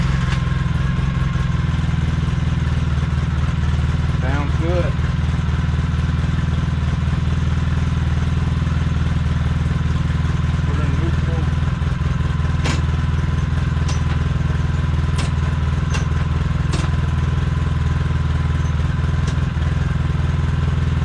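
A freshly repaired engine runs steadily at idle, a loud continuous low rumble with a few sharp clicks and clatters over it, while a person briefly speaks nearby.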